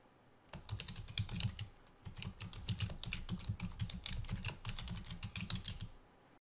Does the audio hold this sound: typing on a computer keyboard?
yes